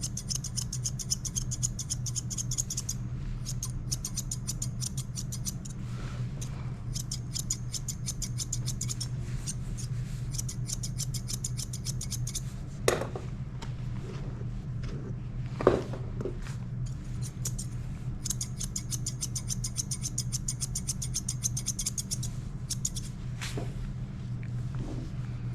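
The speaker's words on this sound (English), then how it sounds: "The reason I'm using thinning shears instead of scissors is for two reasons" Thinning shears trim hair with rapid, crisp snipping in repeated bursts, close and fairly soft over a constant low hum, with a few sharp knocks in between.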